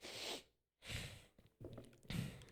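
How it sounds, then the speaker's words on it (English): A person sniffles several times through the nose, short breathy bursts separated by brief pauses, close to the microphone and with no talking. "Sorry, I gotta sniffle."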